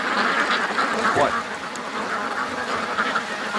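Flock of geese honking overhead, many overlapping calls that sound fairly close, with people talking under and between the calls.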